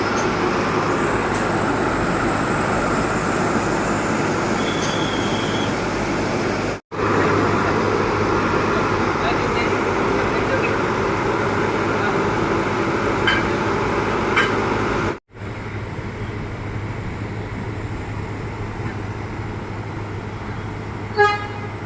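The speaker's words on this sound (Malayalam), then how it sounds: "അങ്ങനെ സ്റ്റീം എഞ്ചിനെല്ലാം ഘടിപ്പിച്ചതിന് ശേഷം നമ്മുടെ ട്രെയിൻ അങ്ങനെ ചെയ്തപ്പം കൂനൂർ റെയിൽവേ സ്റ്റേഷനിൽ നിന്നും വീണ്ടും പുറപ്പെട്ടിരിക്കുകയാണ്." A steam locomotive pulls out of Coonoor station on the hill line toward Ooty, a loud, continuous close-up roar with short whistle toots over it.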